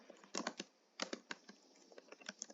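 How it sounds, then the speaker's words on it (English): Fingers typing on a computer keyboard: quick bursts of light clicking keystrokes with short pauses between them, close and fairly quiet. "we're going to type"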